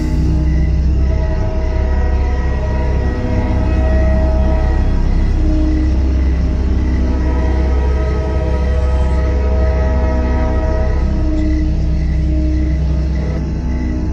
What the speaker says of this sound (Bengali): দূর থেকে ট্রেনের হর্নের শব্দ ভেসে আসছে